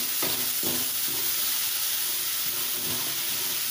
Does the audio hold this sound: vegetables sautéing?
yes